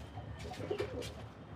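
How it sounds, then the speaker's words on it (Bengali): Pigeons of a good breed coo softly in a loft, a few low murmuring calls over steady background noise, with no talking. "এই সব যেই পায়রাগুলো দেখা যাচ্ছে এগুলো খুব ভালো জাতের পায়রা"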